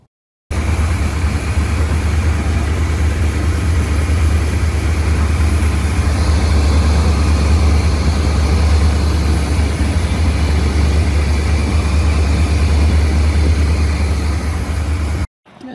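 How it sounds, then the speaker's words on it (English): A warmed-up 1979 Corvette with an L82 V8 idles steadily up close, a strong low rumble held at constant level for about fifteen seconds, then cut off abruptly at the end. "We're just gonna fire it up. Engine's warm now"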